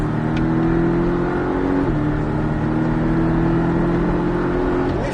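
Onboard at the Mettet racetrack, a Porsche Cayman 718S accelerates hard out of a corner with a loud, continuous engine roar that climbs in pitch, with shifts cutting in near the start and end.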